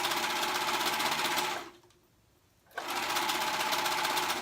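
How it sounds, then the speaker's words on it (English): Sewing machine stitching the sleeve seam of a men's tee, a loud, close, steady motor whir that stops for about a second midway and then starts again at the same pace. "I like to take it kind of slow on my sleeve because I want to make sure that I'm catching everything"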